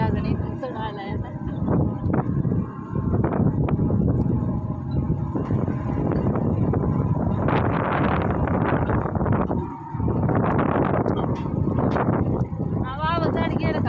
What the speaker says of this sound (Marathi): आता तुम्हाला आवाज येतो का नाही कोणाचा ट्रॅक्टरचा व्हायलाचा आवाज वाऱ्याचा आवाज